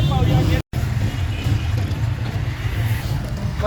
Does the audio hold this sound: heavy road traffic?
yes